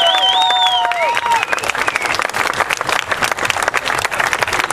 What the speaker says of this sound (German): Das ist euer Applaus.